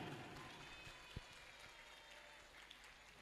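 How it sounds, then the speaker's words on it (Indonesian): Audience at a Maulid Nabi religious lecture claps again, a soft, distant wash of applause holding steady throughout with a couple of sharper isolated knocks. "tepuk tangan lagi."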